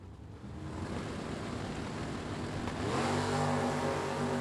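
Chevrolet Camaro drag car making its time run at a Super Pro drag racing event, a loud sustained engine roar that builds in pitch and intensity as it accelerates down the strip, heard alone without talk.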